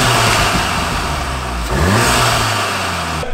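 A Volkswagen Golf R engine revs up and settles back down, a loud close intake roar over a steady idle-like rumble.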